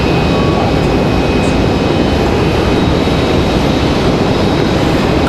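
A JetBlue jet in Super Mario Brothers livery departs Raleigh-Durham airport, its engines a loud, continuous broadband roar that stays dense and unbroken throughout, with no talk.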